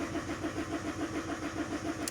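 A common rail engine cranks on its starter with a steady, rhythmic churning drone that stays even throughout, heard up close and alone.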